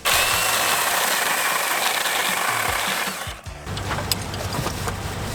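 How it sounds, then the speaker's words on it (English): A small electric chainsaw cuts loudly and steadily for about three seconds while shaping a ski at a snowy campsite, then drops to a lower buzzing with scattered clicks and knocks. "used a small electric chainsaw to fashion a ski"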